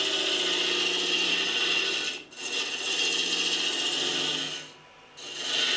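A 27 mm roughing gouge cutting a wooden bowl on a lathe, a loud steady rasping scrape with two short pauses where the tool lifts off, close and alone.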